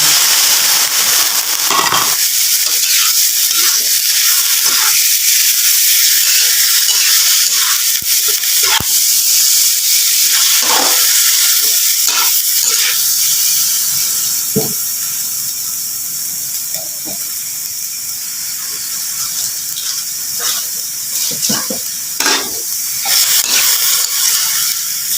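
Chicken pieces for adobong manok with coconut milk hiss and sizzle steadily in a pan, a continuous broadband fry noise with scattered pops and crackles, loud and close throughout.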